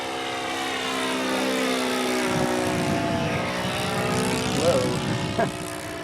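The engine of a Goldberg Super Chipmunk model airplane drones steadily as it flies overhead, its pitch slowly shifting as it passes, with people talking nearby under the engine sound.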